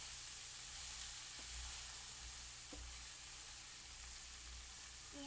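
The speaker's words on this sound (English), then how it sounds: "And then we need to saute it for about 3 minutes." Vegetables sautéing in a pan, a steady close hiss of sizzling oil running unbroken throughout, with a few faint stirring taps.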